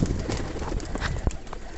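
Flyer pigeons at a small bathing pool on a sunny day, heard up close as soft coos and wing flutters mixed with splashy rustling and one sharp knock, under a constant background murmur.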